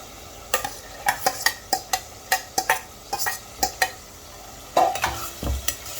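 Tomatoes frying in oil with boiled chawli (black-eyed peas) for a Sindhi sabji, steady sizzle broken by repeated sharp scrapes of a spoon against the pan, close and alone with no talk.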